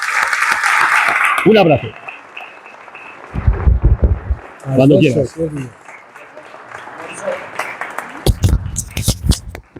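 Audience at a members' day event in Spain bursting into strong applause, loud clapping that swells in waves between stretches of someone speaking Spanish into a microphone.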